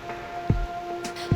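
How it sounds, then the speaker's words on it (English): Steady rain in the video game Reverse: 1999 patters throughout, with a constant hiss and a faint tone underneath, broken by two soft low thumps. "The rain is making too much noise."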